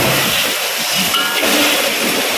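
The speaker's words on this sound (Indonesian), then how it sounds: "Tumis bawang, halia." Onion and ginger sautéing in a pan for sambal sardin, a steady loud broadband hiss of sizzling oil throughout with no breaks and no talk.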